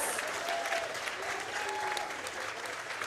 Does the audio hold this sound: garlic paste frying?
no